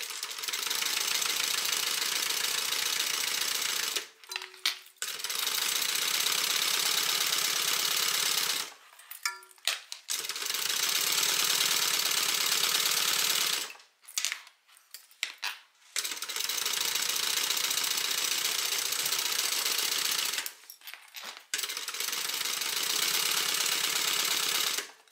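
A sewing machine runs close and steady, top stitching a seam in long even bursts of rapid whirring chatter that stop briefly between runs.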